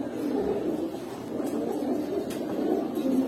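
Giribaz and homing pigeons coo steadily at a seller's place, a soft low continuous murmur of overlapping calls with faint background noise.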